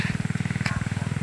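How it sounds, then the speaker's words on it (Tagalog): A motorcycle engine putters nearby with a fast, even pulsing beat that stays steady throughout, joined by one brief sharp click partway through. No one speaks. "Lahi nga motor yang gidaan ni CG."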